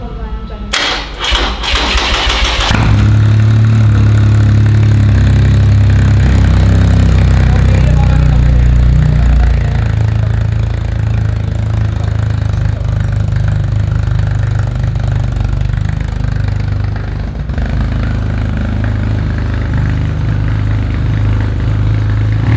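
Heavy 2400 cc motorcycle engine cranking with a few quick stuttering bursts, then catching and settling into a loud, deep, steady idle that rumbles on close by for about twenty seconds.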